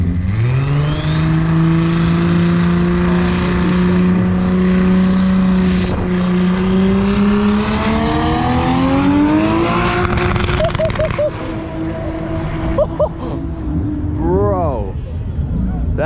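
At a drag race meet, a race car engine roars loud and near, revving higher and sweeping up through gears, then drops and blips with pops near the end while voices talk over it.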